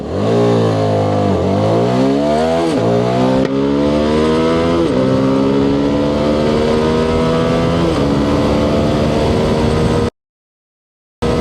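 A CFMOTO 250SR motorcycle accelerates hard in a 0-100 km/h run, its loud, close engine note rising steeply and dropping back at each of several gear changes, then cutting out suddenly.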